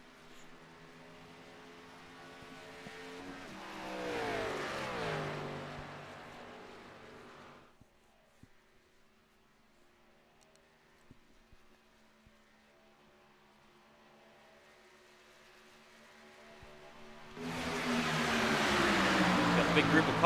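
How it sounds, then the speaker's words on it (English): NASCAR Xfinity Series race cars at Daytona in the iRacing game roar past in loud bursts, one pass early and another building at the end, with a quieter stretch between and a voice talking over them. "Big group of cars heading down the front straightaway here"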